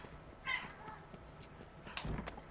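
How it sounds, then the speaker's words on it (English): A pet cat meowing faintly in the background, one soft meow early on and a second fainter call later, over low room noise. "And yes, that was my cat."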